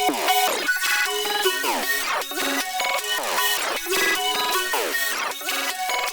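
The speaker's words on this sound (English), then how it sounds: "this synth is moving combs from the Manic sound kit" Moving-combs synth from the Manic sound kit sweeps through a looping pattern of swirling, downward-smearing chord hits, repeating steadily at an even pace.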